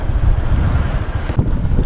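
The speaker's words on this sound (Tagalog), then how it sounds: "Masarap ang masarap ang hangin" Strong wind buffets the microphone outdoors by the water while fishing, a continuous low rumbling roar, loud and steady throughout.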